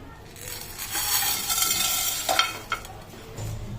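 Whole spices such as cardamom, dried chillies, bay leaf, nutmeg, peppercorns, cloves and coriander seeds dry-roast in a pan with a soft hiss, broken by a few brief clinks and scrapes of stirring, fairly quiet and close.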